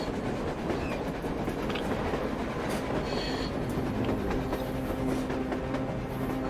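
A train rolls across a snowy surface landscape in Metro Exodus, its steady rumble and rattling wheels running continuously under blizzard wind, with faint metallic squeals, heard alone without voices.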